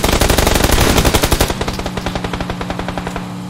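Loud, rapid automatic gunfire from PUBG Lite, a dense burst of repeated shots that continues as a quicker, thinner rattle of individual rounds over a steady engine-like hum.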